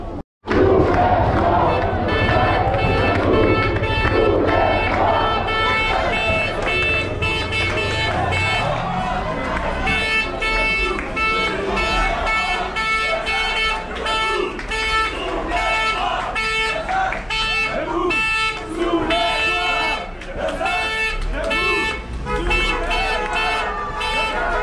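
A crowd clamors and shouts at a pension reform protest in Besançon while car horns toot repeatedly in support, a dense, noisy street scene with voices throughout.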